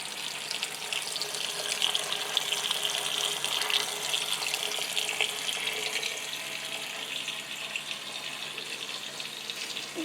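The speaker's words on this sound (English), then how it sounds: "And now I will just cover them back up with the water." Water runs in a steady stream into a crock of pickles, covering them, a close, continuous trickling splash with no talk.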